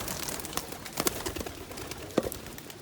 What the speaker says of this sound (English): That's a royal cockbird over there working a hen.